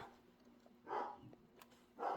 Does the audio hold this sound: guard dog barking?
yes